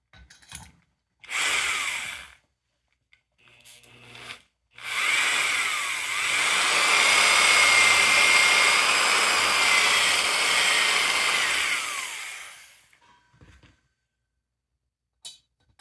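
A straight-flute chucking reamer cuts into a Honda CB350 engine part under power, giving a steady whirring, grinding run of about eight seconds with short bursts of motor noise before it and a few clicks afterward, close by and with no talking.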